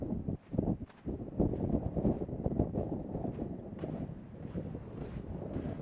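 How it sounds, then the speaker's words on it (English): Strong wind gusts buffet the microphone at open sand dunes, roaring and rumbling in uneven surges across the whole stretch. "Boy, those gusts of wind, the sand hits you in the face a little bit."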